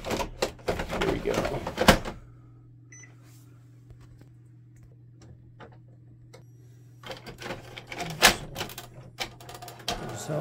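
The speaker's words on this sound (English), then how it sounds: "Picks up the paper right away, and our goal has been achieved." An Epson WF series inkjet printer pulls a sheet from its upper cassette tray, a brief mechanical whir and clatter, then a low steady hum, then more clicking and feeding noises.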